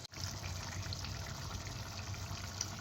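Water is poured into a cooking pot holding a tomato and pepper sauce for kofta, making a quiet, steady gushing fill close by that runs for about three seconds without a break.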